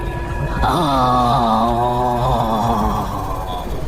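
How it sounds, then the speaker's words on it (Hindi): A tantric baba in a cartoon lets out a loud, drawn-out scream of pain, a wavering wail that rises and trembles for a few seconds before fading. "तभी तांत्रिक बाबा की एक दर्दनाक चीख फिजा में गूंजी।"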